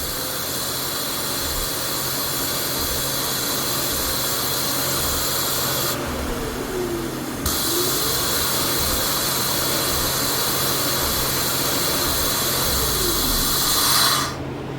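An Acura/Honda engine idling high with an idle air control valve circuit fault, a steady hissing drone that rises slightly partway through, with a faint wavering tone as the idle hunts.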